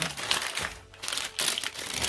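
Packing paper crinkles and rustles loudly and close while a 12 volt 9 amp hour replacement battery for a Razor EcoSmart Metro scooter is unboxed, in two bursts with a brief lull between.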